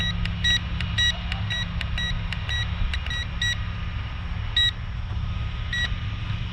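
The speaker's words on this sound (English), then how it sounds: "Wish I could stop that beeping." Short electronic beeps repeat at irregular intervals over a steady low motor hum and wind rumble from an SG906 Pro 2 drone with a three-axis gimbal in flight, the beeps bright and fairly close.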